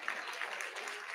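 An audience at a church salvation campaign gives a faint, steady round of clapping from a distance, a soft, even patter with no voices over it.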